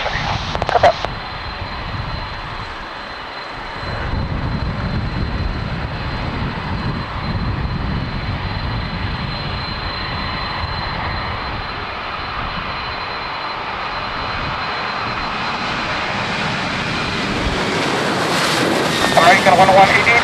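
Boeing 737 airliner roars down the runway on its takeoff roll, a steady broad engine rumble that swells toward the end, with wind buffeting the microphone and radio voices underneath.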